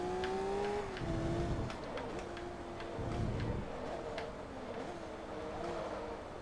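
Race car engine in the Forza Motorsport 2 video game droning steadily with shifting pitch as gears change, loud and continuous alongside faint ticking, with no talk.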